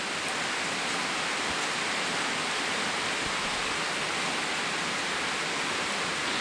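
Heavy rainwater runoff rushes down an incline from a gate after a hard downpour in Samal, Philippines, a dense, constant broadband wash that stays loud and even throughout with no voices.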